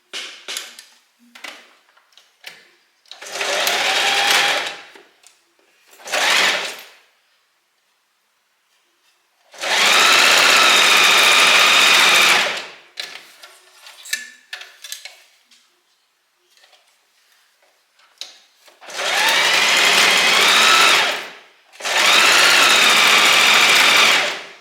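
A sewing machine stitches the seams of a white low-back maxi sundress in several separate bursts of steady, close, fairly loud running, with quiet handling sounds between and no talking.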